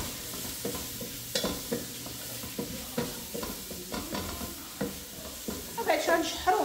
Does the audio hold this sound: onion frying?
yes